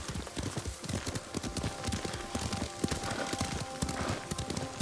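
A horse ridden in the game Ghost of Tsushima clip-clops along in a steady, rhythmic run of hoofbeats, clear and close, with a low rumble of movement beneath.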